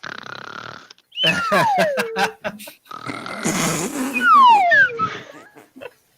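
A person mimics snoring with the voice, producing exaggerated nasal snorts and whistling, falling tones in a couple of bursts, loud and close, amid playful vocal noises.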